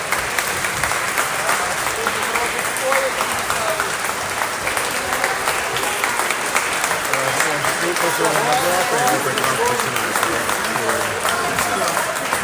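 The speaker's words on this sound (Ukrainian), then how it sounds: "Буржуйними аплодисментами зала зустрічає Шмигаля" Sustained applause fills a parliament hall as a government is dismissed, a dense and even roar of many hands clapping throughout, with faint voices mixed into the crowd noise.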